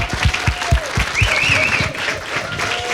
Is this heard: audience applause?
yes